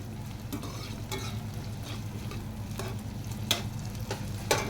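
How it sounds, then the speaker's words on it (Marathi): Stirring and roasting in a pan for a spicy chilli idli snack, with a steady low sizzle running throughout and a few sharp scrapes and clicks of the spoon against the pan, growing slightly louder toward the end; no talking. "एक साधारण नाही 3-4 मिनिट आपल्याला कंटिन्यू असं हलवत राहायचं आहे"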